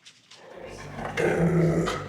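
A large guard dog kept in a kennel growls low and close, the rumble building in strength and holding steady, with no talking over it.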